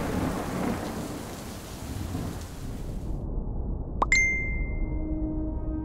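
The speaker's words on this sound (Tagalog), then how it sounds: "Hindi ko pa inasahan na bubuhos yung malakas na ulan." Steady heavy rain with thunder hisses loudly throughout, then cuts out partway, leaving a low rumble and a sharp ringing tone that lingers.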